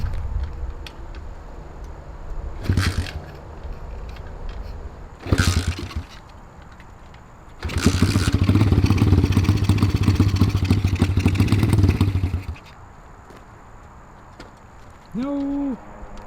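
A junkyard-built 110cc shifter mini bike engine catches in short bursts, then runs loudly for several seconds before dying away, with brief voices and clatter around it.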